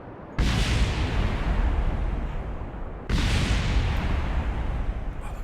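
Two huge rocket explosions in Kerbal Space Program, each striking with a sudden roaring blast that hangs on as a dense, rumbling wash; the second hits about three seconds after the first, and both are loud and close.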